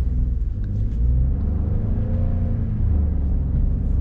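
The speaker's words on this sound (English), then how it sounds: "What were you doing? Hitting the gas." Ford truck engine, a Maverick or F-150 Tremor, accelerating as the driver hits the gas, a steady heavy low rumble that holds loud throughout with a slight surge, no talk over it.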